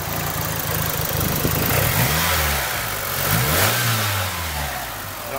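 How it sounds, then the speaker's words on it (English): Rebuilt Mitsubishi Galant VR4 engine revving up and down in steady, loud swells over a continuous rough mechanical clatter, heard up close without any talking. "maybe it's supposed to clank like that after putting the engine together for a little while"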